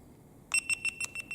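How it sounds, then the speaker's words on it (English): A GoPro Hero 7 Black camera beeps after its button is pressed, giving a quick series of about five short, high electronic tones in an uneven rhythm, close and fairly quiet, with no voices. "press the button, it should beep 3 or 4 times."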